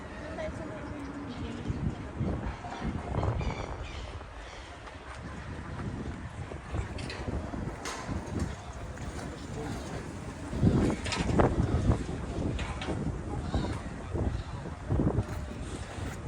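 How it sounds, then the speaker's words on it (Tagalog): Strong wind gusts buffet the microphone at a wintry Kuwait seaside walkway, a steady broadband roar with rising surges throughout. "Malamig na, lakas pa ang hangin"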